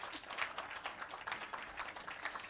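Faint, distant applause from an audience at a Trade Board 40th anniversary employee service awards ceremony, a steady soft patter of many hands clapping throughout.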